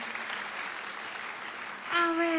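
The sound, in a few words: applause from church audience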